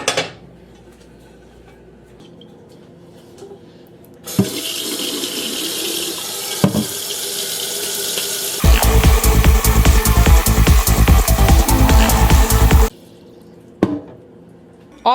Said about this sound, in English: Always fill it with hot water so that it'll heat up faster and that it'll boil quicker.